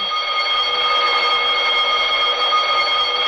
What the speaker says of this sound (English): That's what this here alarm's for, you know.